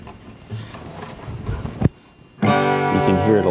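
A strummed acoustic guitar chord rings out brightly and close, after a stretch of quiet handling noise and rustling.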